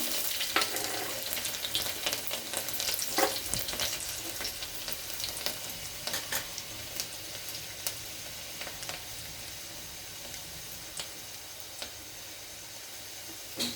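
Garlic frying in hot oil with cumin seeds, a moderate sizzle with irregular crackles and pops that gradually settle, and no talking.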